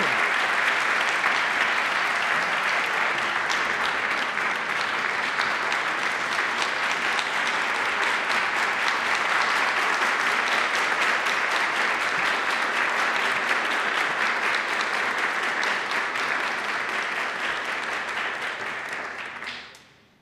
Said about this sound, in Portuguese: Senhoras e senhores, novamente uma salva de palmas aos homenageados de hoje